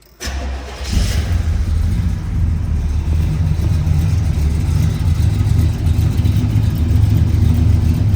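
A 1970 Buick GS 455 convertible's V8 cranks briefly, catches and settles into a loud, steady, rumbling idle close by, with no voices.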